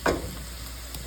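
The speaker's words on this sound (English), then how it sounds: "Okay, we got the beef cooking." Ground beef frying in a pan, a steady close sizzle with a brief louder stir or scrape at the start, no talking.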